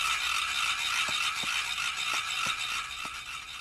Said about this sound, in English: and play with a noisemaker.